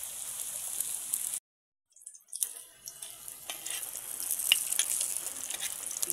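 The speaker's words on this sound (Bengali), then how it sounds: "এই তেল গরম হয়ে গেছে, তেলের উপরে ছাড়ছি।" Chicken patties sizzling in hot oil, a steady bright crackle and hiss close by that cuts out for about a second, then resumes with light pops and spatters.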